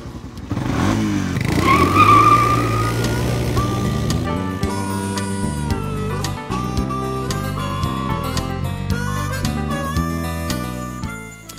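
Vehicle driving along a rural road in Southern Illinois, a steady loud engine drone with shifting tones and some rattling throughout, no talking.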